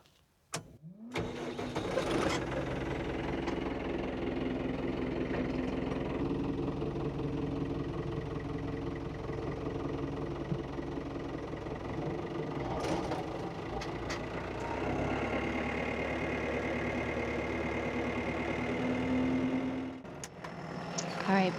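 A tractor engine starts up and idles steadily, heard from inside the cab, with a low, continuous rumble that carries on for most of the stretch, a few door or cab clunks, and a person speaking softly over it.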